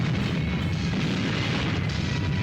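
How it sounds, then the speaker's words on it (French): Explosion in an animated Dragon Ball film, a dense, loud rumbling blast with heavy low-end roar that sustains steadily throughout, no voices over it. "Gros budget explosion, hein."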